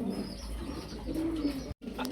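Soft, low fancy pigeon coos repeat in a steady murmur, close by, with a faint chirp or two and a brief dropout near the end.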